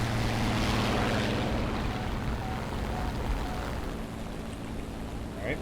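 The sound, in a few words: propeller aircraft engine in the video game War Thunder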